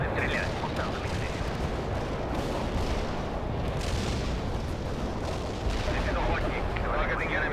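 Artillery barrage in the World in Conflict video game: a continuous, loud rumble of booming shell impacts and gunfire fills the whole stretch, with game voices speaking over it.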